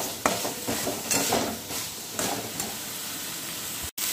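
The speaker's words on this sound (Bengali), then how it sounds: "এবারে দিয়ে দেবো এই যে পটলগুলো দিয়ে আমি আবার ভালো করে নেড়ে নেব।" Pointed gourd (potol) pieces sizzle steadily in a pan while a utensil stirs them in repeated scraping strokes, close and alone, ending with a brief clatter.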